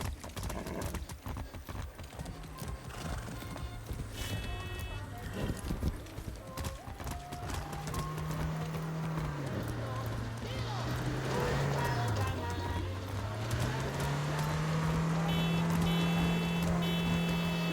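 A horse gallops in the video game Far Cry 6, its hoofbeats clip-clopping fast and continuous alongside a rising and falling engine-like drone, with someone talking over the action.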